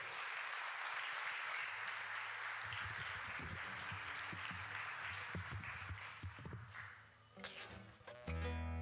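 Audience at a live Christmas folk concert in Tortolì applauds steadily for about seven seconds, the clapping easing off as instrument notes begin to play at the end.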